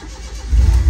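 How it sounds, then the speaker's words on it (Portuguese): A turbocharged car engine cranks and catches right after its fuel pump wiring was repaired, a brief low rumble that swells loudly near the end. "agora eu posso ligar o carro"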